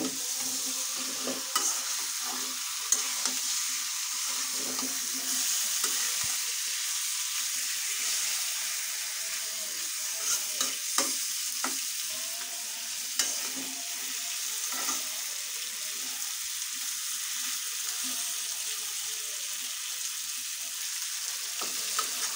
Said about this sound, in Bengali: ভালোভাবে ভেজে দেবো মাংসটাকে।